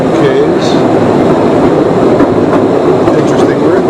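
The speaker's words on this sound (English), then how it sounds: "This train is going about 10-12 miles an hour." Tourist train rolling through a limestone cave at about 10 to 12 miles an hour, a steady rumble with rail clatter that holds loud and continuous throughout, with faint voices in the background.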